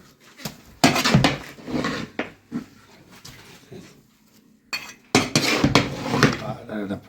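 Heavy metal lid being lifted off a large dum-sealed pot of mutton biryani, clanking and scraping in several loud bursts with pauses, metal pan knocks amid kitchen bustle and voices talking in the background.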